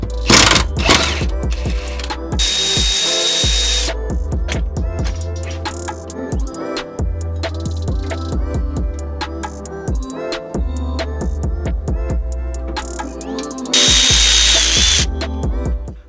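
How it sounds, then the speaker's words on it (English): A power tool loosens the bolts holding a car's transmission mount to the chassis, giving two loud, sustained whirring bursts near the start and end, with rapid mechanical clicking and rattling in between; nobody talks. "loosen the 4 bolts that bolt the trans mount to the chassis"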